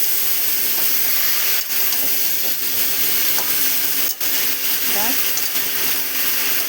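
Pumpkin and shrimp with malabar spinach frying in a pan, a constant close hiss of steam and sizzle broken by a few sharp stirring knocks, with a voice heard faintly in the background.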